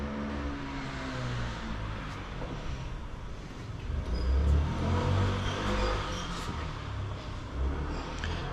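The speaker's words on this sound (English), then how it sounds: "Cars do sound different in Tokyo" Cars pass along a street in Tokyo, a steady traffic hum with a vehicle swelling nearer and louder midway before fading back into the distant flow.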